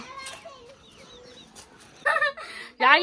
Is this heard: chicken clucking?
yes